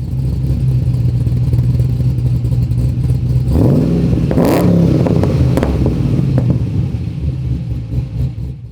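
Supercharged Holden VE SS Ute V8 with a BTR camshaft, rumbling steadily at a lumpy idle, with a brief louder swell midway before settling back, close and loud with no talk.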